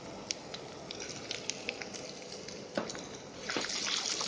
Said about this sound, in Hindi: जीरा हमारा चटकने लगा है